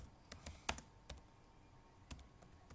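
Sparse, quiet keystrokes on a computer keyboard as a network switch configuration command is entered, a few separate taps spread over the moment.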